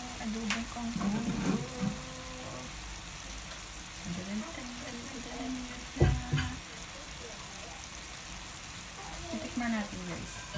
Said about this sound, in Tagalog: Malapit na maluto yung adobong kangkong.